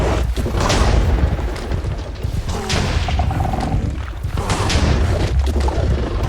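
The Warden firing its attack in a Minecraft mob battle against Martians, with deep rumbling booms and thuds that roll one after another over a dense, loud din of game noise.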